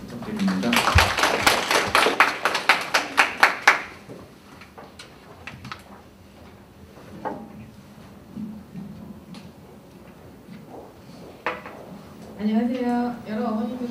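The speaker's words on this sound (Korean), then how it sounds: "힘찬 박수 부탁드립니다." An audience of parents at a gifted-school and science high school admissions briefing gives a burst of brisk, loud clapping to welcome a speaker; it fades after a few seconds into quieter room noise, with a voice speaking near the end.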